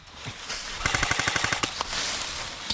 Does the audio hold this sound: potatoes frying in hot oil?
no